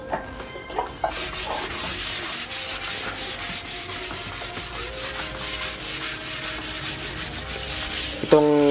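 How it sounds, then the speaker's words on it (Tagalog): Rapid rhythmic hand sanding of primed plywood with number 600 sandpaper, a close, steady scratchy back-and-forth rubbing in quick even strokes, with a few knocks at the start and the end. "papasdahan ko ng number 600 na liha para kinis na kinis"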